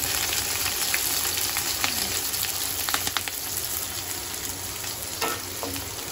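Dry red chillies frying in hot oil in a pan, with a loud continuous sizzle and crackle close by and occasional scraping stirs across the pan.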